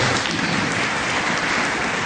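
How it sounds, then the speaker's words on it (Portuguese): Audience applause at a religious gathering, a dense, loud, even wash of many hands clapping that holds steady without a break. "Palmas para o meu amigo Antônio"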